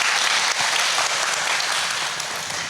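An audience at a student art event claps loudly and steadily, a thick wash of applause that holds throughout and eases slightly toward the end.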